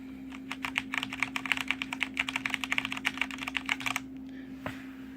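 Fast, clacky typing on a mechanical keyboard, each keystroke crisp and fairly loud, running for a few seconds before stopping, with a low hum underneath.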